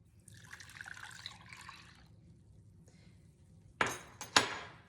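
Lukewarm milk poured onto dry yeast and sugar in a bowl, a soft trickling pour for about two seconds, then quiet followed by two sharp clinks of a utensil against the bowl, close up.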